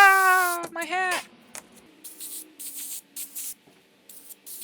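Clear spray lacquer sprayed from a can onto epoxy ornaments in short hissing bursts, several quick sprays in a row after a brief tonal, cat-like sound at the start.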